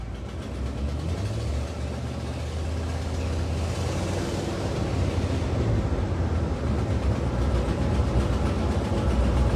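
A Cadillac engine warming up with a small exhaust leak gives a steady, loud, rumbling drone with a raspy edge that holds constant throughout, with no talking over it.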